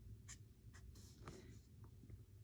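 A pen writing a calculus product rule formula by hand, quiet close scratching strokes in short separate bursts, with no talk.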